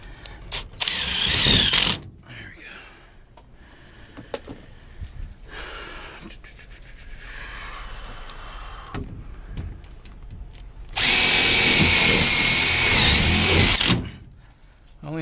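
Screws driven with a power drill into an air conditioner unit during an evaporator coil replacement: two loud, close whirring bursts, one at the start and a longer one near the end, with quieter handling and talk between them.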